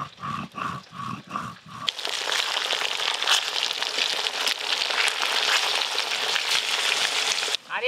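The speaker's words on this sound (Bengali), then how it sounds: "কিন্তু এই যে ইলিশ মাছটা ভেজে নিচ্ছি" Hilsa fish frying in hot oil gives a close, loud, steady sizzle and crackle that fills most of the moment, after a few brief rhythmic knocks at the start.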